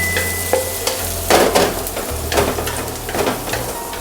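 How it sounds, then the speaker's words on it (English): Tomatoes fry in a pan with a little sesame oil while being stirred, a steady sizzle broken by repeated scraping strokes of the spoon, close and fairly loud. "Alright, frying tomatoes."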